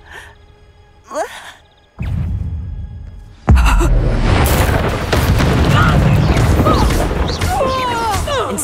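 Spell blasts from Incendio and Bombarda in Hogwarts Legacy: a low boom near two seconds, then a second, louder explosion with a sharp onset, rolling into sustained roaring fire and debris crackle. Faint game voices precede the blasts.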